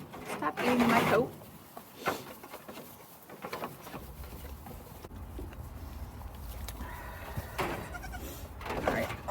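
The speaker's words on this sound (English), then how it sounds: "I'm getting pawed by a goat." Goats bleat on a spring homestead among kids and newborns, a loud nearby bleat at the start followed by scattered calls and rustling while a person talks.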